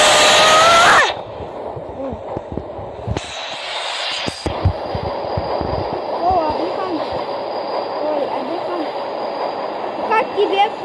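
Roblox game audio of a train eater monster train, with rumbling rail noise, wheel squeals and synthetic tones running steadily under a lively voice.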